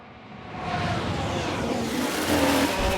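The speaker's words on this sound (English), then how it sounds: "There's been a crash. Sounds like a single car." Simulated Formula 1 racing in F1 Manager 22, with an Alfa Romeo in a single-car crash: steady loud engine roar and tyre noise through the whole clip, swelling after a brief quieter start, with a sharper burst near the end.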